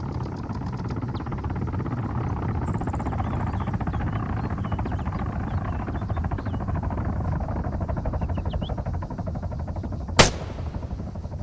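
Gunfire in the military game ARMA 3 over a steady rumbling battlefield din, with one sharp, loud shot cracking out near the end.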